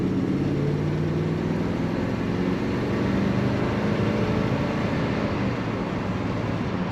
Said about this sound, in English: Very smooth, very nice running car.